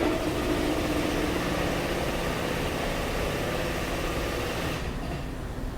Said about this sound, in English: we're going to press this crank apart using our hydraulic press and about 5 tons of pressure to push the pin out the other side